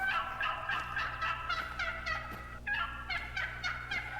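A wild turkey tom gobbles in a mountain hunting area, delivering repeated rapid rattling gobbles in bursts, clear and fairly close, with no voices.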